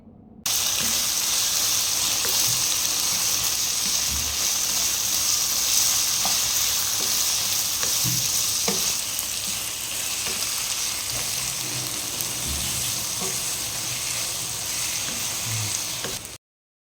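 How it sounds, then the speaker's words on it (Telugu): Chicken fries with coriander and garam masala powder in a pan, a steady loud sizzle running throughout with occasional soft scrapes of stirring, and no voices. "కారం తగినంత ధనియా పౌడర్, గరం మసాలా పౌడర్ వేసి బాగా కలుపుకోవాలి"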